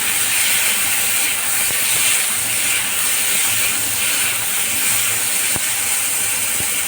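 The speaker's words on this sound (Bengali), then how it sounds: "এবারে কেটে রাখা কচু আলুটা দিয়ে দেবো দিয়ে খুব ভালোভাবে কষিয়ে নেবো" Cut taro and potato pieces fry in a pan with chillies for a light fish curry, giving a loud, continuous sizzling hiss with a few faint clicks of a utensil, no speech.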